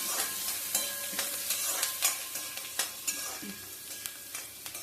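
Onions sauté in a hot pan, a bright continuous sizzle broken by repeated scraping stirs of a spoon, close and steady, with no talking.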